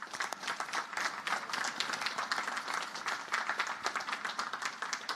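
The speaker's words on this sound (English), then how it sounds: "Please join me in recognizing and applauding these distinguished graduates." A large audience at a Naval Academy graduation ceremony applauds steadily and densely for distinguished graduates, the clapping sustained and fairly even throughout.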